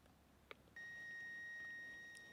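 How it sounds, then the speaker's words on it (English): A wire tester touches the buried guide wire of a Husqvarna robotic lawnmower and gives a steady, clear electronic beep lasting about a second and a half, after a brief click, outdoors and at moderate volume. "we still have a nice clear beep"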